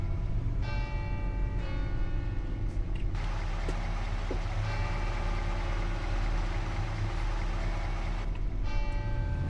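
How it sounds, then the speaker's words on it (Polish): Church bells ring out in a small town in a driving video game, their steady tonal peals sounding over a constant low engine rumble throughout. "Normalnie dzwony kościelnie"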